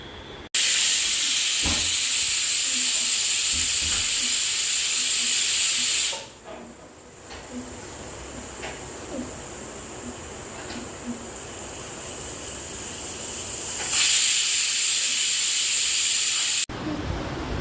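A loud, steady hiss of steam escaping from a pressure cooker of Gujarati vaghareli khichdi on a high-to-medium flame runs for several seconds, fades to a quieter background, then hisses strongly again.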